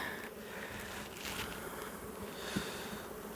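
Honeybees buzz at an open hive during a spring inspection, a soft continuous hum close by with faint rustling of frames underneath.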